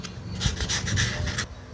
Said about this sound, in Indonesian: Sebaiknya ini dibersihkan terlebih dahulu pakai amplas ya.